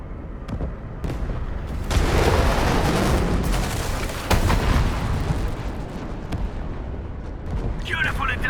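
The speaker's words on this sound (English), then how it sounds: "The UWST will fire at where you've marked." Artillery strike from the UWST in Arknights Endfield, rumbling booms and blasts rolling through a dense, sustained barrage with a heavier surge midway, a loud near bombardment with little pause and no speech over it.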